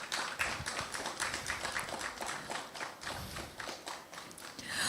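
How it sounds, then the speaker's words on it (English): Steady, moderately quiet clapping from a panel discussion audience, many hands patting in an even, continuous patter with no voices standing out. "Please, a round of applause for him as he joins us."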